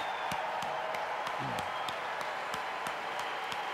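An audience at an ACN company event claps in steady unison to send off a departing colleague. The rhythmic beats repeat over a dense crowd murmur, and a voice calls out briefly in the middle.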